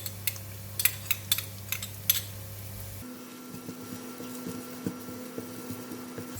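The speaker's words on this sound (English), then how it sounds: "Now I'm going to put in the dry shrimp." Dried shrimp tipped into a pan of softened garlic and shallots: a few seconds of light, close clicks and scrapes, then quieter scattered taps over a steady low hum, with no talking.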